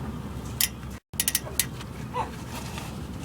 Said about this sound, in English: you could start turning it little by little, and you could see how it goes, it's turning with your wrench